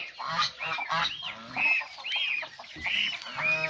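Farm chickens cluck and squawk in a busy, irregular series of calls, fairly close but moderately quiet, without any talking.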